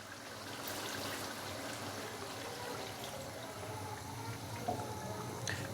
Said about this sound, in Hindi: तो अभी मैं इसके अंदर पानी डालूंगा तकरीबन 1 गिलास।